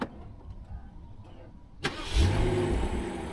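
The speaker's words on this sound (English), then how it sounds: "So engine start." A BMW M760Li's V12 engine, started remotely with no one inside, cranks and fires up nearby, then settles into a steady low idle after a quiet pause with faint clicks.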